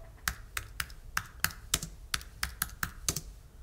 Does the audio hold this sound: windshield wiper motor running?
no